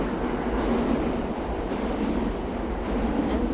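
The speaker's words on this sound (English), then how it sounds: "Oh, there's the subway." A New York City subway train passing, a loud continuous rumble and rush of wheels on rails that holds steady for the whole stretch without talk.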